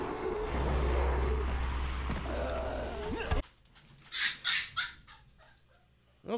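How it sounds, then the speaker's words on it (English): A puppy gives several short yips and whimpers in quick succession near the end, nearby and moderately loud. Before them comes a stretch of loud, noisy game sound. "It's definitely entertaining having a puppy."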